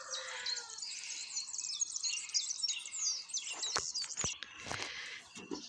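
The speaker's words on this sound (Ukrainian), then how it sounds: "зараз таке яскраве сонечко, пташечки співають" Small birds chirp and trill in quick overlapping phrases on a frosty, sunny April morning in Skvyra, Kyiv Oblast, fairly close and clear, with a few sharp clicks near the end.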